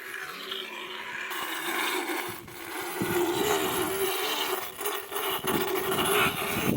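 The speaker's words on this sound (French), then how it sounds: "Et ensuite, je mets le moteur en route." A motor, apparently a powered dental-care tool for an animal, starts up and runs as a loud, steady rough whir and grind that continues for several seconds.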